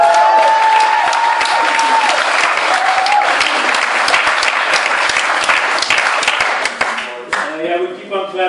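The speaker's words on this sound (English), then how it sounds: "we keep on clapping" An audience claps in steady, dense applause, loud and sustained, with a voice heard briefly over it before it thins out near the end.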